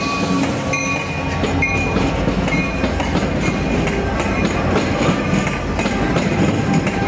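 A loud train rumbles along the rails with rhythmic clacking and occasional metallic squeals, close and continuous.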